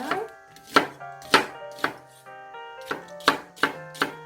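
A knife julienning sweet potato stems for kimchi, about eight crisp chops on a cutting board at an uneven pace, each with a short ringing tone, close and clear.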